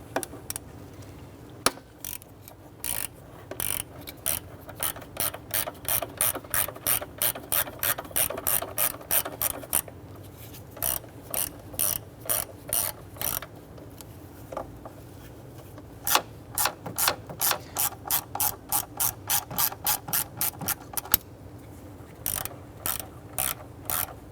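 A ratchet with a 5/16 socket working throttle body bolts on a 2011-2021 Jeep Grand Cherokee 3.6L V6, close rapid clicking strokes in repeated bursts with short pauses between runs.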